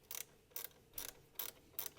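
A ratchet wrench tightens an 8 mm battery terminal nut on a Tesla Model S, giving five evenly spaced bursts of quick, close clicking that are quiet and isolated.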